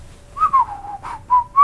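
A person whistles a few short, wavering notes in a quiet room, about four brief pitched bursts with small gaps between them.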